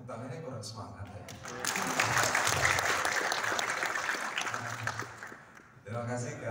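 Audience applause at the closing ceremony of an ENVISION program, a swell of clapping in the middle of the stretch, with a speaker talking before it and again after it fades.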